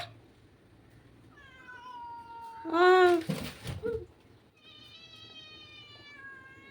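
A cat meows repeatedly in drawn-out, whiny cries, with a louder, more intense yowl in the middle, close by over faint background noise.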